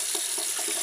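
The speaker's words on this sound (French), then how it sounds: "je viens la secouer dans mon bol rempli d'eau afin que l'eau elle pénètre au maximum de la touffe" A shaving brush is shaken in a bowl filled with water, giving a brief run of soft rhythmic sloshing and splashing that sounds close and fairly quiet.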